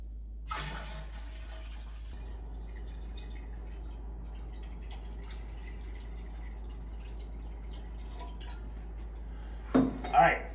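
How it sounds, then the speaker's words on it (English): Cold water pours into a 5 gallon kombucha batch as a faint, steady wash that runs throughout, ending with a brief louder clatter near the close. "I will top it off with 4 more gallons of water."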